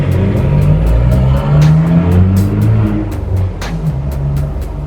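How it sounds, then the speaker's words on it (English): Motor vehicles with loud aftermarket mufflers roaring past on a town main street, a steady throaty engine rumble with rising and falling revs, close and loud. "there are a lot of people in this area that like to ride motorcycles or have those like the rice burner muffler things"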